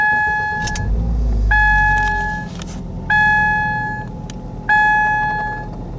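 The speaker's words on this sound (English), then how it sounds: "now I'm going to start the car" Car engine starting up during a headlight repair: repeated dashboard warning beeps in sets of tones, a crank and catch of the engine settling into a low idle, close and loud.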